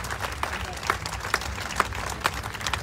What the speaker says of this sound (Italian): fate un applauso a queste donne, a questi uomini dei quartieri